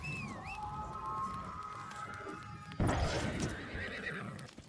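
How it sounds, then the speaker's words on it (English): A horse whinnies loudly in the game New World Aeternum, then hooves thud and clatter in a brief burst; no talking. "then mount and feed your horse."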